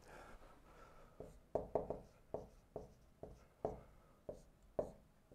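Chalk or marker writing on a board, a series of faint taps and scratchy strokes in an irregular rhythm, quiet and close, with no talk.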